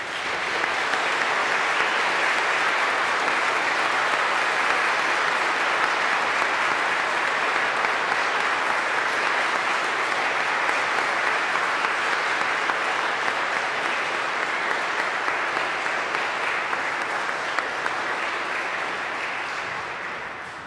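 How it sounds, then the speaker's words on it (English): A church congregation at Sunday Mass breaks into sustained applause, a dense, even wash of many hands clapping that holds steady for about twenty seconds before tapering off at the end, with no speech over it. "So I'm going to ask all of you to give him a big applause."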